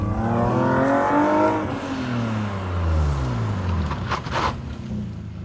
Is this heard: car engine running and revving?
yes